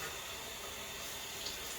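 Running water splashes steadily over feet during wudu ablution, a soft, continuous rinsing stream with no voices.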